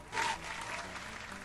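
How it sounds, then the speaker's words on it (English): Applause breaks out during an animation challenge livestream, a loud burst of clapping in the first moment that settles into a steadier, softer patter for the rest. "Clap again!"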